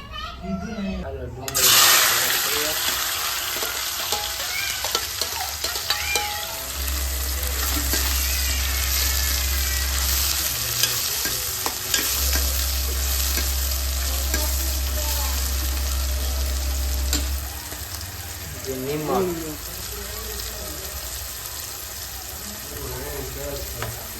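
Onion and tomato frying in a pan for a Gujarati brinjal dish, a loud continuous sizzle with stirring clatter, a low hum running through much of it, and children's voices chattering in the background.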